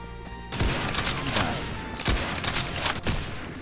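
A Springfield rifle fires in the Roblox game Arsenal, loud sharp shots at about 0.5, 2.0 and 3.0 seconds, each followed by a brief echoing tail over steady game noise.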